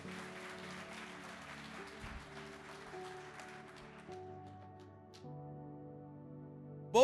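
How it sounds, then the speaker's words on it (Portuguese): A congregation at a church service claps in a steady, moderate wash, set against sustained organ or keyboard tones that shift chords partway through. "Vamos lá, aplaude Jesus aí"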